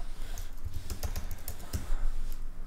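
Rapid typing on a computer keyboard, a quick run of close, crisp key clicks over a steady low background hum, with no talk.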